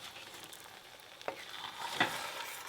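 Kidney beans frying with fish in a pot get stirred, with a steady low sizzle broken by a couple of short utensil scrapes against the pot, close and moderately quiet.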